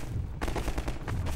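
Rapid gunfire in the video game Half-Life 2 Episode 2, a run of sharp repeated shots starting after a short pause and continuing steadily, fairly loud and close, with no talking over it.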